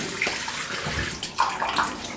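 Tap water runs and splashes while whiskers are wetted before a shave with a slant razor, a continuous close-up flow broken by a few brighter splashes.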